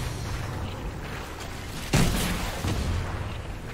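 In a video game, a motorboat fires on a large sea buoy. A single sharp boom cuts through a steady background rumble, then a faint rattling tail follows.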